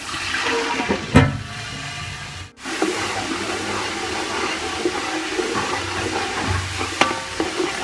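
Water poured into a pan of frying onions for a vegetable biryani sets off a loud, sustained hiss and rushing sizzle, with a few clanks of utensil against the pan.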